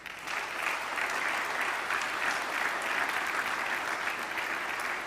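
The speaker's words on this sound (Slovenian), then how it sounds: "Še enkrat prosim za aplavz." An audience at an innovation awards ceremony applauds, with steady, dense clapping from many hands that holds at an even level throughout, heard from within the hall with no voices over it.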